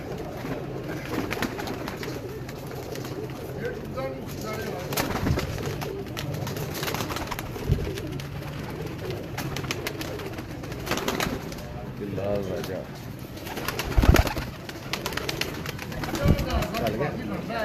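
Pigeons coo on a rooftop in soft, repeated low calls against a busy outdoor background, with people talking throughout and occasional knocks and bumps.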